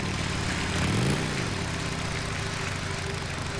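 A motorcycle engine in the video game Days Gone hums steadily at low revs, riding through snow, with a brief dip and rise in pitch early on, no voices.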